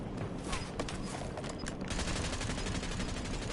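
Call of Duty gunfire rattles without pause, dense overlapping shots and bursts forming a loud, sustained barrage of automatic fire with no voices over it.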